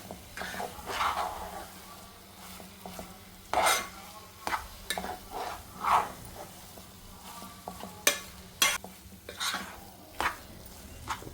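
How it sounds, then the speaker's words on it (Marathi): Dry fruits being stirred into thick carrot halwa in a pan, with a run of scraping, clinking strokes of a spoon against metal, some sharp, over a faint steady sizzle. "आता याच्यामध्ये टाकून घेते ड्रायफ्रूट्स आणि याला मिक्स करून घेते"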